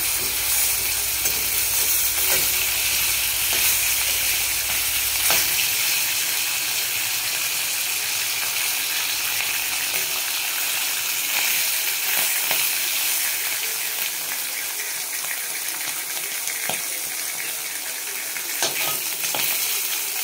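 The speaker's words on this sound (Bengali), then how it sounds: "মাছটা ভাজা হয়ে গিয়েছে।" Fish fries in a pan with a steady, dense sizzle that holds throughout, a low rumble dropping away partway through, with faint clinks of stirring.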